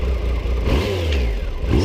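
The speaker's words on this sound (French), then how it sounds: "Le bruit de ce 3 cylindres, c'est juste..." A 2017 Triumph Tiger Sport three-cylinder motorcycle engine revs up close, a loud continuous growl that rises and holds with a rough, throaty texture.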